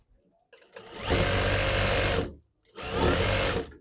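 A large sewing machine stitching fabric runs in two loud, steady bursts, a long whirring run and then a shorter one after a brief pause.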